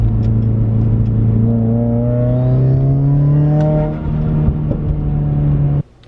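A 2015+ Subaru WRX fitted with a KAAZ limited-slip differential drives under load, its engine droning loudly and rising steadily in pitch as it accelerates, then cutting off abruptly near the end.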